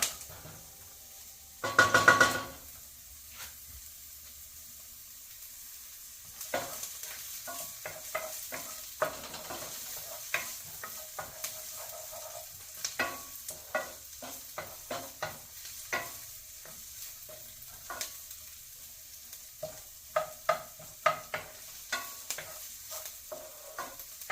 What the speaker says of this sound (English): Nothing like some sauteed onions